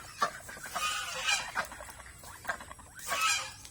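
A farm flock of geese and ducks honking and calling in overlapping, raucous bursts, close by and loud, with several squawking peaks over a busy background of bird chatter.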